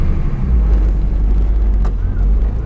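A 1961 Mercedes-Benz 220Sb W111 sedan out on a drive, giving a steady, loud low rumble of engine and road noise heard from inside the car, with a little wind buffeting.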